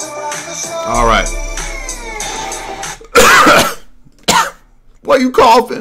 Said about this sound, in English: Why are you coughing? Why are you coughing, bro?